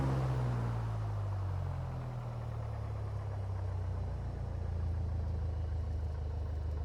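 A single piston aircraft engine in a flight simulator game idles during its pre-flight run-up, a steady low drone that holds a constant level throughout, with no voices.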